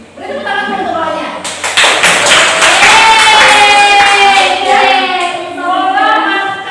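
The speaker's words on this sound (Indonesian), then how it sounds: "Beri tepuk tangan untuk kawannya." Classroom of students clapping for a classmate during a biology lesson, brisk hand claps over close, loud speech with voices talking throughout.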